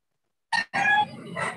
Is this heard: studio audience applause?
no